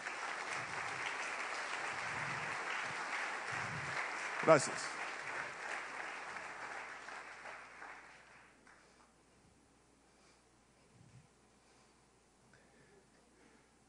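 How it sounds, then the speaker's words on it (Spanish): Congregation at a Saturday church service clapping for the King, sustained applause that fades away over several seconds, with a voice speaking briefly and a sharp knock partway through. "denle un aplauso al Rey, por favor"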